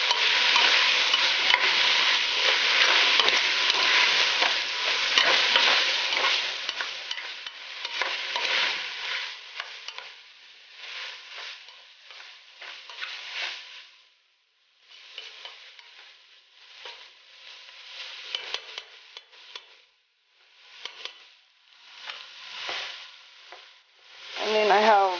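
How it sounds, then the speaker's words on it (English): A spoon stirs spicy bean gumbo ingredients in a pot with a close, continuous scraping and sizzling that thins into intermittent stirring bursts and short pauses toward the end. "Just stir it with the rest of the ingredients that's already in the pot."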